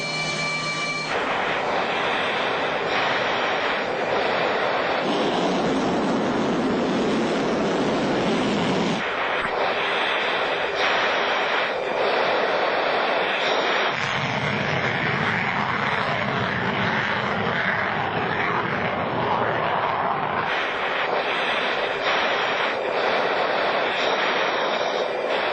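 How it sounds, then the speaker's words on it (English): A Sukhoi Su-37 fighter jet performs an air show routine, its engines roaring loudly and continuously, swelling and easing as it maneuvers overhead. "Yevgeny Frolov has flown the Su-37 many times."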